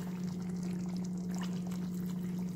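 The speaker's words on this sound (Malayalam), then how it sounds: "നമുക്ക് തീ കുറച്ച് വെച്ചിട്ട് നമ്മൾ രണ്ടാം പാല് ഒന്ന് ചേർക്കാം" Second coconut milk pours into a Kerala potato masala curry simmering on a low flame, a steady, continuous liquid rush over a constant low hum, close and without talking.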